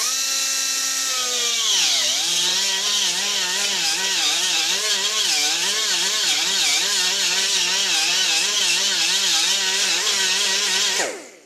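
A carbide burr grinding down a rough weld on a steel workbench, a loud, continuous high-pitched whine whose pitch drops under load and wavers as pressure varies, running steadily before spinning down at the end.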